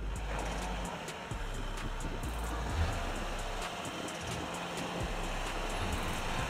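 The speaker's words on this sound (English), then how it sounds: "I will show you how Volkswagen Amarok passes this section with activated rear lock" A Volkswagen Amarok pickup crawling over an off-road obstacle with its rear differential lock engaged, engine droning steadily with low rumble and intermittent clunks and creaks from the chassis, moderately close.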